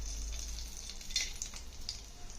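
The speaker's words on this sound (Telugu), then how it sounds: "వేసి వాటిని వేగనిద్దాం" Bay leaf, shahjeera, cloves, cinnamon and cardamom fry in hot oil, a soft, steady sizzle and crackle close by with a few brief pops.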